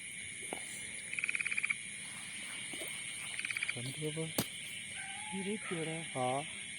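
Frogs croaking at night beside water during snakehead fishing, with quick pulsed trills and deeper, separate croaks repeating across the clip, fairly close, amid faint insect drone and low murmurs.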